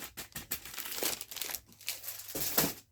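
Paper crinkles close by in bursts of rustling and crumpling, loud and dry, with short pauses between handling.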